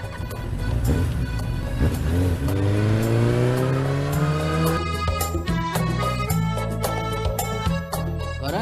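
A motorbike engine revs up steadily as it pulls away, its pitch rising in one long, loud, close acceleration, then holding a rough, throbbing note, with no voices.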